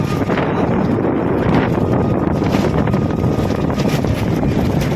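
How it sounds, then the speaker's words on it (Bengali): An electric rickshaw (toto) is driven along a road, with a constant loud rush of wind and low rumble from the ride and no clear voices. "আমি টোটোটা চালাচ্ছি"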